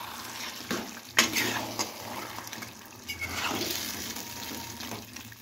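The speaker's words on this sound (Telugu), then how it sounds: "ఒక ప్యాన్ తీసుకొని అందులో వాటర్ తీసుకొని" Water pours steadily into a cooking pan on a home stove while chicken biryani is being made, a rushing splash with a few louder surges, close by and without talk.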